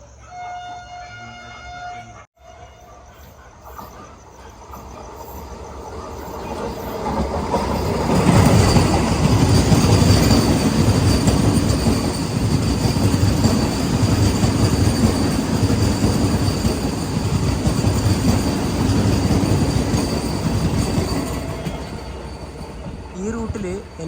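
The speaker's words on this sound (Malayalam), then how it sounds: "ഡൽഹി ആനന്ദി വിഹാറിൽ നിന്ന് ഡെറാഡൂണിലോട്ട് പോകുന്ന വന്ദേ ഭാരത് എക്സ്പ്രസ് ആദ്യതാ വരുന്നത്" Vande Bharat Express from Delhi Anand Vihar to Dehradun passing a station on the route near Raiwala Junction, a loud sustained roar of wheels and rushing carriages building after a few seconds and holding steady close by.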